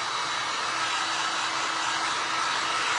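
Hair dryer blowing on black paint on a glass art piece, a loud, steady whooshing blast of air with an even motor hum, unbroken throughout with no talk.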